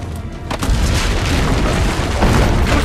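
Loud, booming cannon fire from ramparts during a villa siege in Assassin's Creed Brotherhood, continuous heavy rumbling explosions with a fresh blast around half a second in, no speech.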